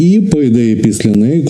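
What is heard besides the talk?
No everyday noise stands out behind the speech.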